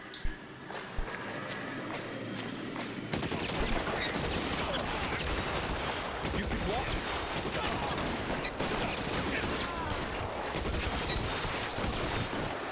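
Gunshots from the LA Noire crime game, a sudden heavy barrage of rapid shots breaking out after a few quiet seconds and then continuing as dense, loud, close gunfire, with voices talking underneath.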